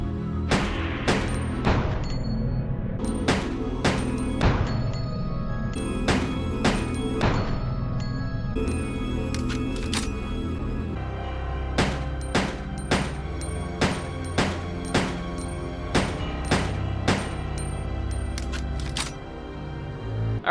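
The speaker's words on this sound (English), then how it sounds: "Now for another handgun. Glock 17. A large size handgun that uses 9mm by 19 rounds." Glock 17 9mm handgun fired in Resident Evil Code: Veronica X, about twenty sharp crisp shots in irregular bursts and single pops, loud and close against a steady ambient game drone, no talking.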